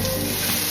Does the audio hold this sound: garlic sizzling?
yes